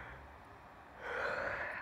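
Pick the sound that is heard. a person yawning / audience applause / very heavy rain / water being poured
a person yawning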